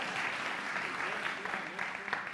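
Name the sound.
congregation applause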